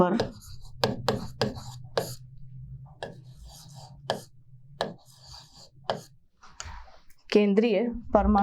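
A teacher writes on a board during a chemistry lesson, giving sharp, irregular taps and clicks spread across the stretch, with a voice speaking near the end.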